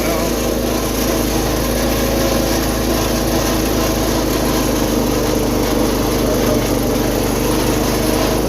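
Small engine of a repaired 210 running steadily, a loud continuous buzzing drone with constant rhythm, close up and uninterrupted throughout.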